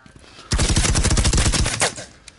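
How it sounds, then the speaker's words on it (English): Rapid automatic gunfire in the tactical shooter game Firewall, a loud dense burst of shots lasting about a second and a half, fading into quieter reverberation. "Shots behind."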